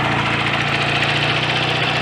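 A BSA A65 motorcycle engine runs steadily at 2000 RPM, making a close, even, throbbing mechanical hum with a regular pulse and no breaks.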